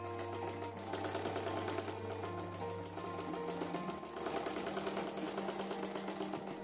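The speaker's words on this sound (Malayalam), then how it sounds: "ഇതിപ്പോൾ ഞാൻ 1 മടക്കിൽ തന്നെ സ്റ്റിച്ച് ചെയ്തെടുക്കുവാണ്." A sewing machine runs steadily, stitching a folded fabric hem on an umbrella skirt, with a fast, even mechanical rattle close to the microphone that continues throughout with only a brief dip near the middle.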